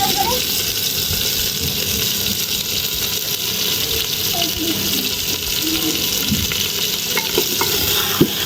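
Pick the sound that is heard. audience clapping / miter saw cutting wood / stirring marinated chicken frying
stirring marinated chicken frying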